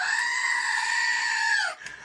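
A goat bleat sound effect, one loud, close, wavering bleat held for under two seconds before cutting off.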